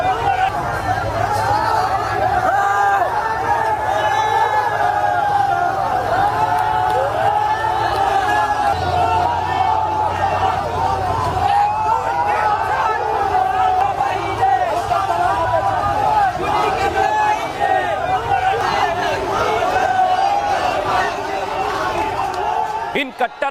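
A large crowd of radicals, seen in news footage, fills the scene with continuous dense babble and shouting, loud and unbroken throughout.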